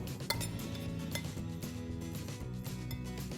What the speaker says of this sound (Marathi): हे सगळं छान मिक्स करून घेऊया.